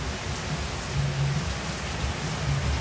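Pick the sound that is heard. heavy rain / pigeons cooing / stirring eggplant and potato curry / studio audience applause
heavy rain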